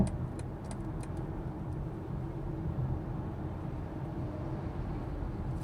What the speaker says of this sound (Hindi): और हल्का सा बिल्कुल मामूली सा टायर नॉइज़ आता है जब एकदम पिन ड्रॉप साइलेंस होता है केबिन तब।